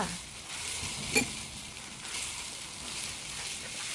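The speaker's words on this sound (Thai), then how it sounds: "แล้วจะเอาถั่วลงไปผัดเลยค่ะ" Beans being stir-fried in a pan with ground pepper and salt make a close, steady sizzle with scraping stirs and one brief sharp clink, no talk.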